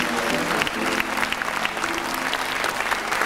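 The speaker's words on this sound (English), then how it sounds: "Give them a big applause." An audience applauds at a Filipino beauty pageant opening in Italy, a steady, full round of clapping with a faint hum of crowd voices beneath.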